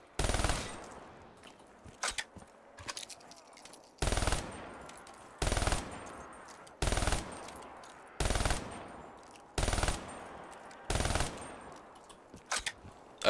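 A heavy machine gun in a Black Ops 3 custom zombies map fires a series of short automatic bursts, about eight of them, evenly spaced with quiet gaps between.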